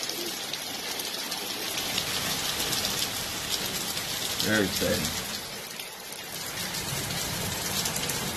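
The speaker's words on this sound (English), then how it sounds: "And now it's raining." Heavy rain pours steadily in Sharm el-Sheikh during a thunderstorm, a constant close wash of drops, and someone speaks briefly over it midway.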